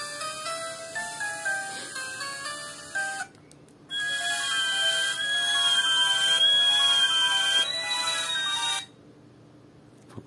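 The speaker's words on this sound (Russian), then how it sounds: "Встроенные, послушаем рингтоны." Built-in ringtones of a Sony Ericsson Z320i flip phone play one after another through its small loudspeaker: bright, beeping polyphonic melodies with a short gap between tunes, loud and close, with no talking.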